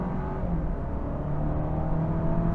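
A 2024 Alfa Romeo Giulia accelerating in dynamic mode: a steady, muffled engine drone with a faint rising whir, moderately quiet and continuous, with no talk.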